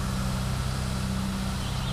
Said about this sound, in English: Sorry for the noise. Street sweeper.